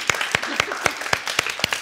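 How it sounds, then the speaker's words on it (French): A small audience claps for dancers at a hypnosis wine-tasting show, a sparse, irregular patter of individual claps close by with faint voices underneath. "Et on peut les applaudir, les danseuses."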